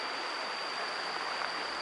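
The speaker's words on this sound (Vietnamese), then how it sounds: "mà ở bên cạnh bãi đá là một dòng suối" Mountain stream running beside a bank of white rocks, a steady soft rush of flowing water heard alone with no talking, fairly quiet and even throughout.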